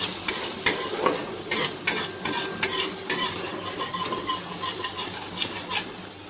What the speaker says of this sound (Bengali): একটুখানি জল দিয়ে মশলাটাকে কষি যতক্ষণ না তেল ছাড়ছে